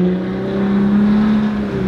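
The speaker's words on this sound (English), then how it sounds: "give them a nice rip of the Borla exhaust" A Jeep Gladiator with a Borla exhaust gives a loud, close, steady engine drone for about two seconds, holding one deep tone throughout with no talking.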